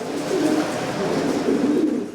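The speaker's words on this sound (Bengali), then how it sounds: "তার খামারে রয়েছে বিভিন্ন জাতের ৮০ থেকে ৯০ জোড়া কবুতর" Fancy-breed pigeons on a farm holding 80 to 90 pairs coo in low, rolling phrases, several birds overlapping close by with a steady murmur underneath.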